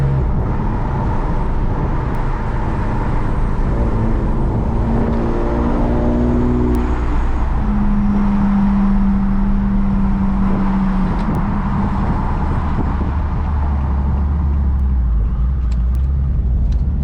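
An Infiniti G37 with a swapped transmission idles while warming up, a loud, close, continuous engine drone with a slowly shifting hum and no talking.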